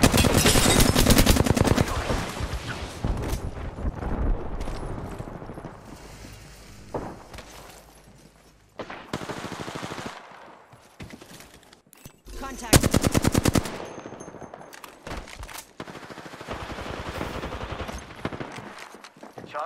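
Repeated automatic gunfire in a shooter video game, rapid bursts of shots close up with brief lulls between volleys, with voice callouts and talk over it.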